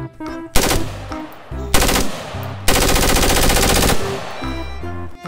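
A toy Nerf M16 rifle plays its electronic sound effects: loud, buzzing machine-gun bursts, one short, one brief and one longer, separated by lower whirring electronic tones, close to the listener, with a single spoken word.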